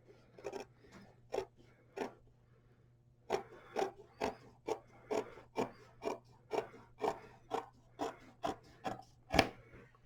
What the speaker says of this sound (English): I'm going to cut through the fold.